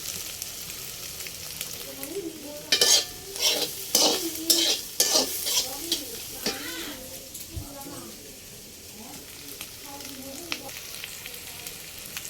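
Tomatoes and egg frying and being stirred in a pan for pasta, with a burst of scraping stirring strokes and sizzling in the middle, then a softer steady sizzle; a voice speaks over it.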